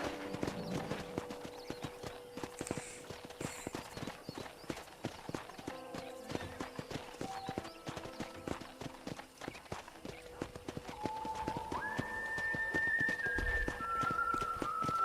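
Horse hooves clip-clop in Red Dead Redemption, crisp regular beats at a walking-to-trotting pace, with a brief whistle-like tone and a rising wind rush near the end.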